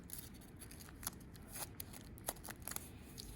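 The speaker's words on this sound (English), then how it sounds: "And then you're gonna cut one wing out and then the other." Scissors snip through a double layer of folded material to cut out a small wing shape, a series of short, crisp cuts close by over faint background noise, with no talking.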